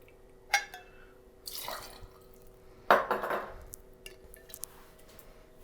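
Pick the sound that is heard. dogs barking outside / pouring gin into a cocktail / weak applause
pouring gin into a cocktail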